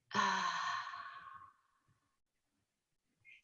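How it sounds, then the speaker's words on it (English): A long, audible exhale follows a deep breath, starting strong and fading out over about a second and a half before near silence. "just take a very deep breath in and a long breath out"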